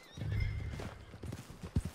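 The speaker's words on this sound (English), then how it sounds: "Why is another horse here?" A brief horse whinny followed by a few soft clopping hoofbeats in the video game Red Dead Redemption 2, faint and close, with no talking.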